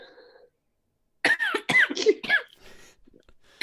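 A person's cough bursts out close up in a quick cluster of harsh, throaty barks lasting about a second, after a soft breath and a pause, with a fainter rasp trailing off at the end.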